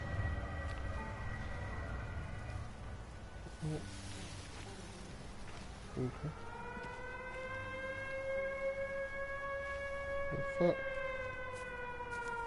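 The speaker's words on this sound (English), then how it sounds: "Fucking air raid siren." A civil defense air raid siren wails in the distance, holding long sustained tones that slide and waver over steady background noise, while a man mutters and swears briefly.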